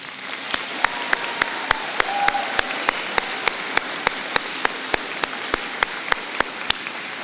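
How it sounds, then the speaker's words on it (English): Applause at a graduation ceremony, thin and sparse, with one or a few hands clapping in a regular, evenly spaced rhythm over a quiet hall background. "Can we have a round of applause?"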